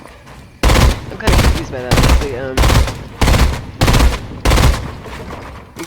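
Bursts of loud, close Fortnite gunfire, about seven rapid volleys in a regular rhythm, each lasting roughly half a second, with a voice speaking briefly underneath.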